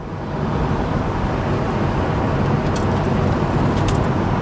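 A 1985 Honda Accord with 62K miles drives at about 40 mph, its engine and road noise a loud, steady broadband roar from inside the cabin, with no distinct gear change standing out.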